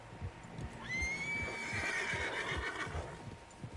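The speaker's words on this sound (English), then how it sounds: "Horses, quite a few of them." Horse whinnying in the video game Red Dead Redemption 2, a single long neigh rising then wavering, heard at moderate distance over soft hoof clip-clops and outdoor ambience.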